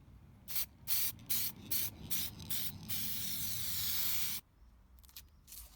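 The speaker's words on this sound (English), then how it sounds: "wheels are painted in desirable color and covered with clear coat for" A spray gun applies clear coat to restored alloy wheels: a run of short hissing bursts, then one long sustained spray, then a few more quick bursts, all close and clear.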